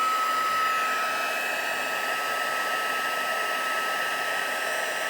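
Heat gun blows hot air during journal-page crafting, a continuous steady whirring roar with a faint high motor whine, close and unchanging, with no talk.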